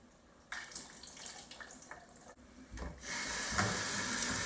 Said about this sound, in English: I'm going to rinse my beans. I'm gonna pour them into a colander.